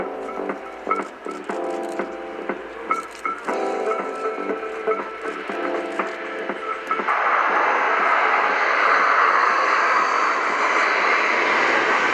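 C-27J military transport aircraft landing at the RIAT 2018 airshow in Fairford, its turboprop engines giving a loud tonal whine that swells into a broad, steady roar about halfway through.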